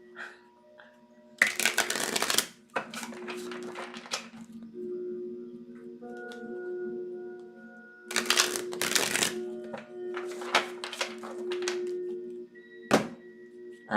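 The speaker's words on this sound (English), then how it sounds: "Because I'm shuffling this deck." A deck of tarot cards is shuffled by hand in two bursts of riffling and snapping, with soft taps and thuds between them. The sound is close and fairly quiet, with a faint hum in the background.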